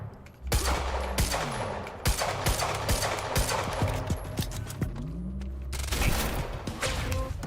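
Rapid bursts of gunfire from a shooter game, Quantum Break, crackling in dense volleys across the whole stretch with loud impacts and booms, briefly pausing before resuming near the end.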